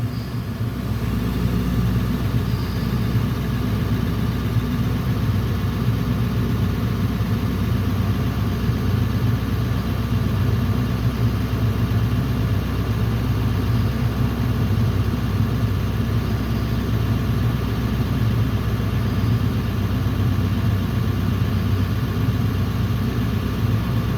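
A truck engine idles steadily while building air pressure for the air brakes. A constant low rumble holds close and loud the whole time, with no voices over it.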